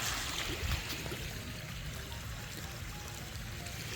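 Water runs across a gravel backroad in rural British Columbia, a steady broadband rushing and trickling that holds an even level throughout with no voices.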